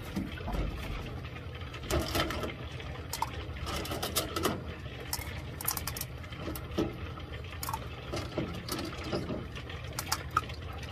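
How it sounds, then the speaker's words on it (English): Water sloshes and splashes continuously with gurgling pours and occasional louder spills as water is dumped from a Lot-O rock tumbler holding agates, fairly close and steady. "I'm going to dump out some of the water."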